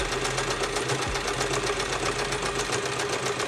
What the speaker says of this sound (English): we're just going to sew along the outer edge in one direction, just straight across